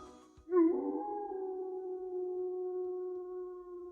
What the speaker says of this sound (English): It's a wolf.